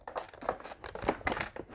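A plastic bag being opened, crinkling and rustling in quick irregular bursts close by, with no voices.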